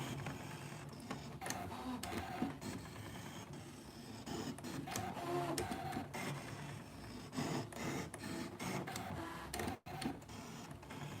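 A Brother ScanNCut cutting machine works at low level with whirring motor runs and clicking carriage moves, broken by short pauses and one sharp stop, under a quiet indoor backdrop.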